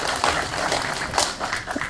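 An audience at a Korean regional industry announcement event claps steadily for about two seconds, a dense, even patter of applause with faint voices underneath.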